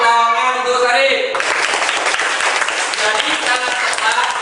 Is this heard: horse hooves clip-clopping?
no